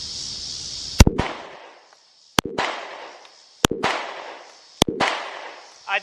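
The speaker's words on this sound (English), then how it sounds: "We'll go ahead and put some shots down range." Four sharp pistol shots from a Smith & Wesson Shield fired downrange outdoors, spaced about a second apart, each a loud crack followed by a rolling echo tail.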